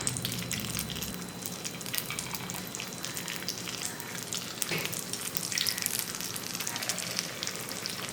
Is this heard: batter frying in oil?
yes